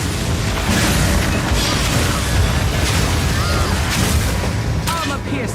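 Incendiary crossbow bolts burst in a Path of Exile 2 fantasy battle, a dense, loud barrage of booms and fiery blasts that overlap almost without pause.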